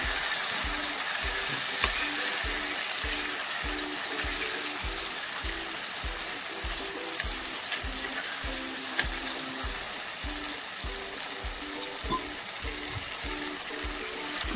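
Fish curry with manimuni leaves cooks in a pan after a splash of water, a constant bubbling sizzle with a regular, rhythmic stirring pulse close by.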